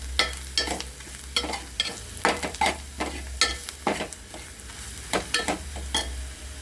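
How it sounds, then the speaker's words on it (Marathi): Garam masala spices roasting in a pan with browned onions for a raw mango and tomato chutney, with steady scraping strokes of a spoon and a soft sizzle repeating in an even rhythm, close and moderately loud, without talk. "त्यामध्ये आपले जे गरम मसाले आहेत ना ते टाकायचे आतमध्ये त्यांना भाजून घ्यायचं"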